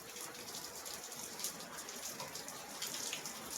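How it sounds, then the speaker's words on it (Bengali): Rain falls steadily outside, a soft, even hiss with faint patters that continues unbroken and fairly distant, with no voices over it. "এই দেখ বাইরে কিরম বৃষ্টি হচ্ছে"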